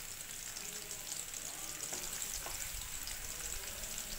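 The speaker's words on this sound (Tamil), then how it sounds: "லைட்டாக வதக்கிக்கலாம். ரொம்பவும் ப்ரௌன் கலரில் வர தேவையில்லை" Ingredients sautéing lightly in a pan on a stove for egg fried rice, giving a steady, soft sizzle and crackle throughout, close and even with no talking.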